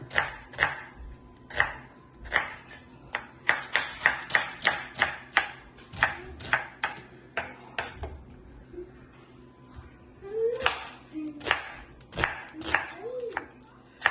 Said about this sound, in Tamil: வெங்காயம் பட்டுறேன்